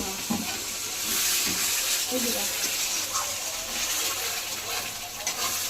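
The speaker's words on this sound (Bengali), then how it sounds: "সামান্য একটু জল দিয়ে দিলাম, মশলা ধোয়া জল।" Spice-washing water is poured into masala frying in a pan, and a soft, steady hiss and sizzle carries on throughout at moderate volume. A voice talks over part of it.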